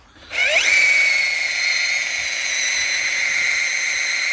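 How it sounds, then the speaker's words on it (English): A power drill driving a wood splitting drill bit into wood rises quickly to a loud, steady whine and keeps grinding close by at a constant pitch. "I have drilled holes in the wood, but I haven't split a single thing yet"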